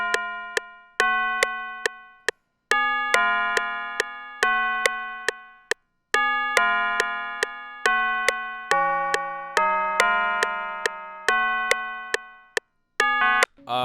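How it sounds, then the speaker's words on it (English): Bell one-shot samples for a trap beat ring out in a repeating pattern, bright tuned chimes struck again and again with quick decays, some held notes and short gaps, loud and alone with no voices. "this is what the bell's gonna sound like for my beat"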